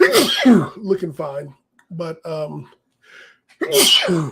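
A sharp sneeze bursts out at the start, followed by someone talking, then another sneeze-like burst near the end.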